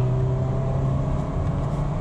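A 2023 Mitsubishi Xpander GLS heard from inside the cabin while accelerating to pass a truck, a steady humming engine drone with constant road rumble, even and sustained without voices.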